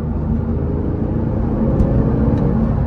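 Porsche engine running with a steady, smooth mid-level drone heard from inside the car, a continuous even rumble with no sharp revving, alone without talk.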